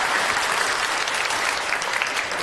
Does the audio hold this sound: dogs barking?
no